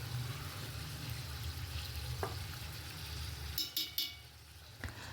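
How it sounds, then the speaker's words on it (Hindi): Mutton trotters (paya) frying in a pot with golden brown onions, a soft steady sizzle heard close but quiet, with a few brief scraping and clinking stirs toward the end. "फिर 10 से 15 मिनट तक मैंने इसको अच्छे से फ्राई किया था"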